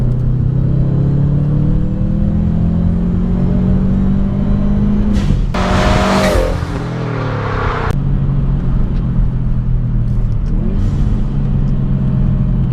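A turbocharged Subaru Legacy Spec.B in Sport Sharp mode running about 17 PSI of boost pulls hard under acceleration, its loud engine drone climbing steadily through the gears, with a brief shift break partway through and no talking.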